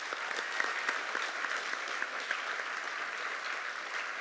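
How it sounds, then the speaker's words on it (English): An audience at an awards presentation applauds steadily, a soft, even wash of clapping heard at a moderate distance for several seconds. "So please, let's give them a round of applause."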